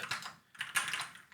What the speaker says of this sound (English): let's just type this one too